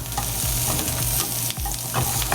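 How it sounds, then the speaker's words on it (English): Onions fry in butter in a pan, a steady loud sizzle with occasional stirring scrapes throughout, no voices. "we've just got the onions going in some butter. They're just toasting up a little bit"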